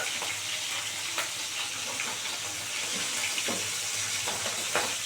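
Vetki fish bones frying crisp in hot oil, a continuous close hiss and crackle with small pops scattered throughout.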